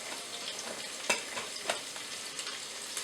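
Onions and garlic frying in a pressure cooker pot, a quiet, steady sizzle broken by a couple of sharp stirring scrapes.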